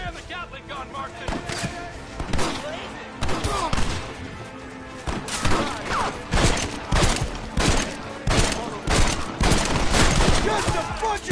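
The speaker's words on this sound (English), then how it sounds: "You man the Gatling gun" Rapid bursts of Gatling gun fire in a Red Dead Redemption shootout at Blackwater, dense and continuous, with shouted voices mixed into the clatter throughout.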